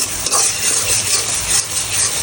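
Small chopped shrimp with a little turmeric sautéing in a pan, a steady close sizzle with faint stirring, no talk.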